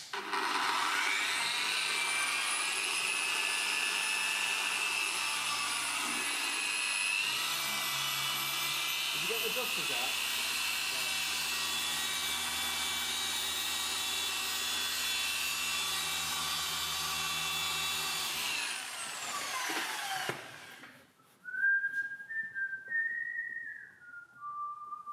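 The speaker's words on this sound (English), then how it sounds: "we're going to machine polish this on DA, the Rupes LHR75, with a Lake Country microfiber cut pad and Benzerner 400" Rupes LHR75 dual-action polisher with a Lake Country microfiber cut pad running steadily on metallic car paint for about twenty seconds, a sustained high whine with a low motor hum, then it stops and a brief rising whistle-like tone follows.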